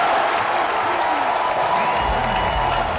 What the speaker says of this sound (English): Camp Randall is starting to get loud.